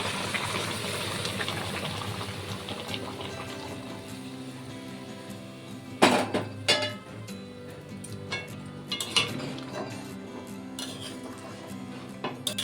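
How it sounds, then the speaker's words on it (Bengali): Hot water goes into a pot of mutton curry amid clinks and knocks of vessels and utensils, a few sharp metallic clatters and a soft splashing gush over a low background hum, fairly quiet. "আমি কিছুটা জল গরম করে রেখেছিলাম, গরম জলটা দিয়ে দেব।"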